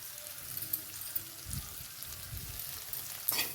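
Black chickpeas with ground fresh coconut and turmeric fry gently in a pan, a low, soft sizzle with a couple of brief stirring thumps and a scrape near the end.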